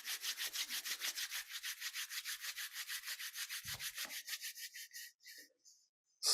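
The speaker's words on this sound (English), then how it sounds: "I'm just going to rub the hands together." Hands rubbed together during a breathwork practice, a steady rhythmic swishing of about two dozen strokes that slows and fades toward the end, close and quiet, with no talk.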